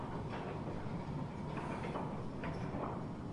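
An underground mine locomotive hauls wagons of tin ore through a tunnel at South Crofty Tin Mine, a continuous low rumble with faint rattling and clanks.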